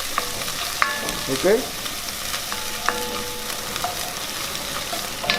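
Food sautés in a pan while making chicken tikka masala, a faint, steady sizzle with occasional light scrapes and clinks of stirring, and one brief spoken word near the start.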